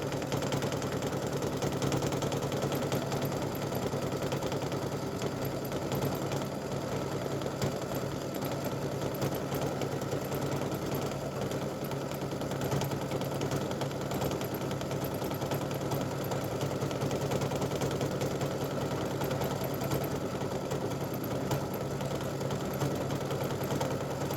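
An embroidery machine stitches a free-standing lace awareness ribbon, its needle running in a fast, even mechanical chatter that continues unbroken and fairly loud throughout.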